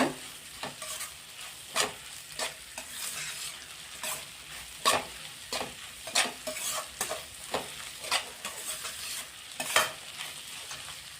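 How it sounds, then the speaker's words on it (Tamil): Chicken fried rice with vegetables and masala sizzles steadily in a pan, with repeated scraping stirs at an irregular rhythm throughout, close and fairly loud, with no talking. "ஒரு 2 to 3 மினிட்ஸ் இதை நல்லா இந்த மாதிரி ஃப்ரை பண்ணிக்கோங்க"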